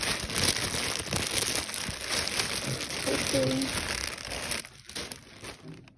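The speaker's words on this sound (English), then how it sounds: "So I'm gonna take these shoes out this plastic bag." A plastic bag crinkles and rustles loudly and continuously at close range as a pair of Giuseppe Zanotti leather and suede high-top sneakers is pulled out, with a brief spoken word partway through.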